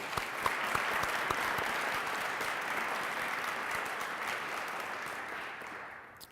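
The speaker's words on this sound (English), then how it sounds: "Let's give our soldiers a round of applause." Sustained audience applause at a military change of command ceremony for the soldiers of Alpha Company at West Point, a steady dense clapping that holds evenly for several seconds before tapering off at the end.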